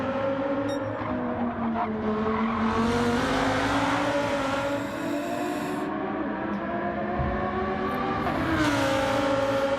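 Lamborghini race cars on worn medium tyres lap a track in a sim racing game, giving a continuous, loud engine drone whose pitch rises and falls through the corners, with no voices.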